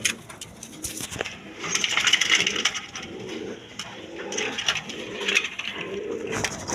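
A pair of black racer pigeons coo in repeated low, throaty rolls, close by, over a rustling, scraping background, with no speech.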